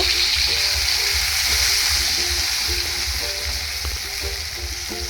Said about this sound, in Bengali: গ্যাসের ফ্লেমটি মিডিয়ামে রেখে মশলাগুলি খুব ভালো করে কষাবেন